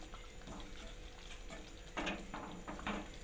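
Banana flower kootu with coconut being stirred in a pan, a soft scraping and patter of the spoon against the pan over a low steady simmer, with a few louder strokes toward the end.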